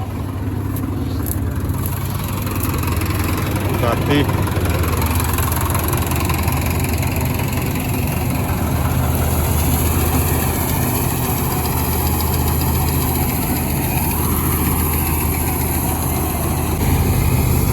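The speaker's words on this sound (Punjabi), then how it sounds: "ਹੁਣ ਦੂਜਾ ਟਰੈਕਟਰ ਲੈ ਜਾਾਂਗੇ ਫਿਰ ਟਰਾਲੀ ਭਰਾ ਦਾਂਗੇ" A tractor engine idles in a wheat field during harvest, a loud, steady, close rumble with a faint knocking throb throughout; a single word is spoken briefly over it.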